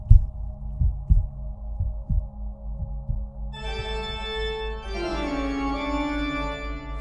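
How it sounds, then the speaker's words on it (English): Heavy, slow heartbeat thuds from a Tell-Tale Heart audio drama throb over a low, steady hum, then fade as a bright, swelling musical tone rises and takes over. "it is the beating of his hideous heart"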